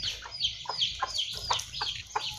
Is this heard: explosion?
no